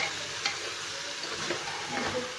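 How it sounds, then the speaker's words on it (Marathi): Rice sautéed in hot oil in a pan for whole masoor lentil pulao, a dense close sizzle broken by a few quick scraping stirs of a spoon, with no talking. "आपल्याला तेलामध्ये तांदळाला परतून घ्यायचं आहे"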